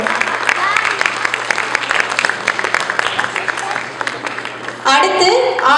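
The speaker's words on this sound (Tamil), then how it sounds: "இவங்களுக்குலாம் ஒரு பலத்த கரவொலி கொடுக்கும்." Loud, sustained applause from an audience at a Pongal celebration honouring a youth volunteer, a dense wash of many hands clapping together that swells near the end.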